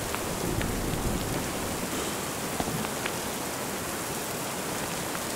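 Steady rain pours in the horror video game Lunacy Saint Rhodes, a dense, even hiss of drops on surfaces with faint scattered patters, continuous and close throughout.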